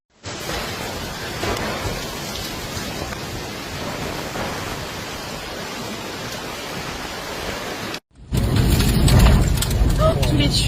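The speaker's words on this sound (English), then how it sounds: "The powerful storm came suddenly as France was experiencing a heat wave." Sudden powerful storm during a French heat wave brings loud, steady heavy rain, broken by a brief cut and then a louder, rougher downpour close by.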